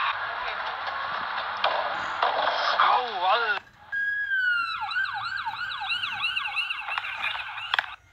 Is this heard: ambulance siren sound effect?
yes